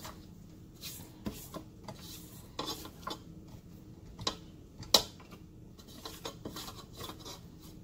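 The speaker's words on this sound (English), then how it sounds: "I'm going to make sure I scrape down the bowl really well." A mixing bowl being scraped down, sides and bottom, with the paddle attachment cleared while making chocolate cream cheese pound cake batter; soft repeated scrapes and light taps of the utensil against the bowl, close and fairly quiet, without speech.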